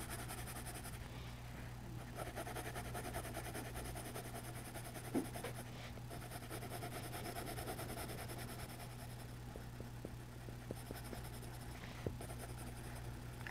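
A pencil scratches steadily across paper at close range, a soft continuous scribbling with faint room hum and no talking.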